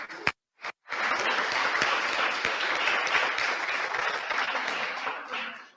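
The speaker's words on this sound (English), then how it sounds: "Ces applaudissements vont à l'endroit de nos panélistes" A conference audience at a panel on terrorism in Africa applauds the panelists: a few scattered claps, then steady, full applause from a roomful of people that holds evenly for several seconds.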